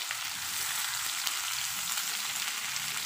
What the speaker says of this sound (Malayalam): ഈ സമയം നമ്മൾ എടുത്തു വെച്ച നമ്മളുടെ സവോള ഇതിലേക്ക് ചേർത്ത് കൊടുക്കാം. ഇനി നല്ലതുപോലെ ഇളക്കി കൊടുക്കുക.